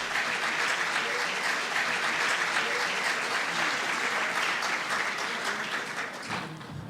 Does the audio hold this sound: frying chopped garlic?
no